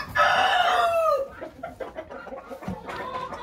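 On a poultry farm, a rooster lets out one long crow up close, followed by scattered hen clucks and soft calls from the flock.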